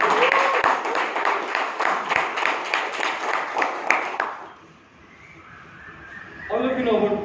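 The audience at a Bangalore Toastmasters meeting gives a round of applause for about four seconds, a close, steady clatter of clapping that fades into quiet before a voice begins speaking.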